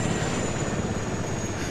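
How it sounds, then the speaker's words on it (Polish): Helicopter in the military shooter game Arma 3, a steady broadband rotor and engine drone holding at even loudness throughout without pause, with no voices over it. "Helikopter."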